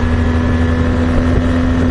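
A BMW R 1200 GS Adventure's boxer engine hums steadily with a low, even drone while the motorcycle is ridden on a demo ride at Laguna Seca, Monterey, mixed with loud wind rush and no talking.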